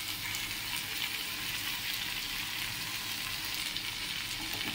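Vegetables with salt and turmeric, cooking for a poppy-seed dish, sizzle and fry loudly in a pan over full flame while being stirred; a steady, dense frying hiss runs throughout with no pauses.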